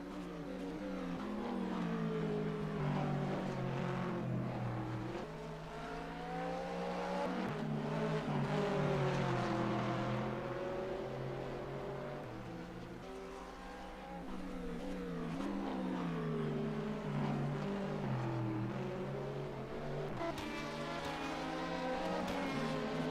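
A Corvette race car's engine drones steadily in a sim racing endurance game at Spa in slipstream conditions, its pitch rising and falling through gear changes and mixed with other cars nearby, continuous and moderately loud without talk.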